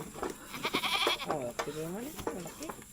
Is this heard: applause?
no